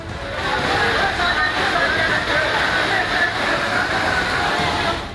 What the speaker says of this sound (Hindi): गली में पानी का तेज बहाव लोगों को डराने लगा।